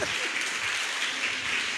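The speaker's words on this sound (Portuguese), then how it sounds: "é para aplaudir de pé, igreja" A church congregation applauds together in a dense, continuous wash of clapping that fills the room evenly from start to finish, with no speech over it.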